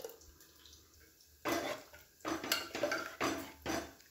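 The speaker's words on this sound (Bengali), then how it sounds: "এখন আমি এই দুধটা ঢেলে দিচ্ছি এর মধ্যে" Milk is poured into a pot of payesh rice pudding on the boil, giving a few short splashing bursts and metallic pot clatter at close range, alone without talk.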